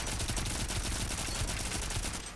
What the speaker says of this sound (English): Freaking Gatling gun is nuts.